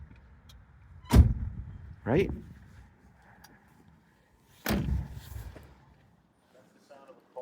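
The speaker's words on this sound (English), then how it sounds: "You got to hear how the door's shut." An original, never-hit 1969 Chevelle SS 396 has its door slammed shut several times, each a heavy solid thud close by. Someone speaks briefly between the closings.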